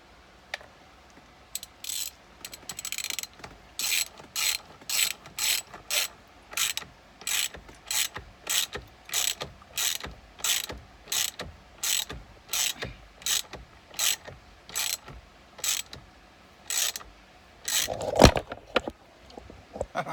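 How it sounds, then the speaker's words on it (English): A ratchet wrench with an extension and Torx bit, used while installing a clock spring on a 2005 Ford Freestyle, clicks in a long series of evenly spaced bursts, close and clear, with a brief scrape near the end. "Grab your wrench, extension,"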